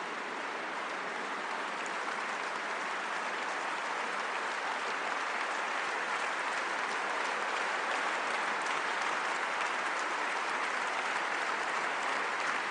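A large hall at a French political party congress rings with continuous, dense applause, a steady wash of many hands clapping at a fairly even level from start to finish.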